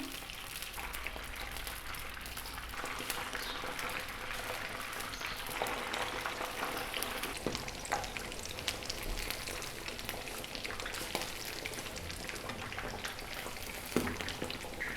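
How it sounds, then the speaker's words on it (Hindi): Pinwheel samosas deep-frying in oil in a kadai: a steady, faint crackling hiss that runs unbroken for the whole stretch, with occasional small pops and no talking. "डिप करने के बाद हम इसको डालेंगे कढ़ाई में। इसी तरह से हम बाकी के समोसे भी इसमें डालते जाएंगे।"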